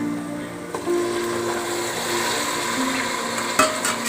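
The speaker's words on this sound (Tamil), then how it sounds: "இப்போ நம்ம தக்காளி போட போகிறோங்க." Tomatoes go into a pan of frying gravy being made for half a kilo of mutton, with a steady close sizzle, a stirring scrape near the start and a brief clatter toward the end.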